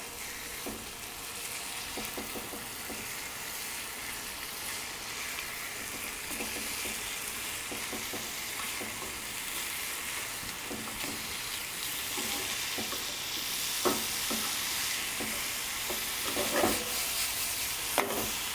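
Sous vide meat, likely burger patties, searing in a hot pan, giving a steady, even sizzle and hiss throughout with occasional small pops and scrapes, fairly quiet and with no talking.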